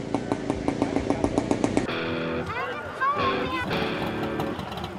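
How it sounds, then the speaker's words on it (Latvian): A golden moped's small engine putts rapidly and evenly at a street parade in Grobiņa, then gives way to a busier mix of revving motors and crowd noise, with a voice talking over it. "21. augustā Grobiņā rūca ne tikai zelta mopēds."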